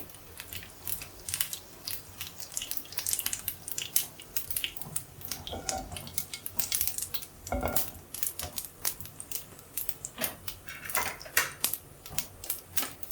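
Rapid, irregular sharp pops and crackles of mustard seeds spluttering in hot oil with fenugreek and cumin for bitter gourd curry keep bursting on and off throughout.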